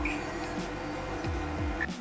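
A Mars 2 Pro resin 3D printer moves its build plate down, making a soft whirring motor hum with a few rising and falling stepper tones and small clicks.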